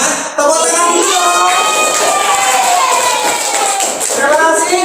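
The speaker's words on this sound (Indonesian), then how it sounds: "Tepuk tangan dulu." A high school class applauding at the end of a lesson, a dense steady patter of many hands clapping close by that continues evenly for several seconds, with a faint crowd murmur.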